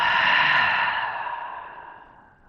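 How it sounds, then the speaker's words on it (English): A long, deep exhale pushed out through the mouth during a seated chair-yoga cooldown, breathy and close, strongest at the start and fading gradually over a couple of seconds, with no talking. "Take a deep inhale, fill the torso. Exhale out through the mouth."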